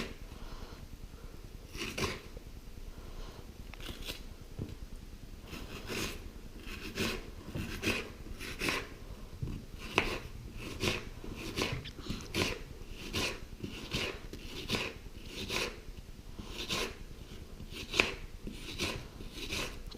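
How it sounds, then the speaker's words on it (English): Ingredients for lamb biryani being chopped finely on a board, a long run of quick, fairly quiet knife taps in irregular bursts, with no talking. "Yeah, you want to chop them fine and long"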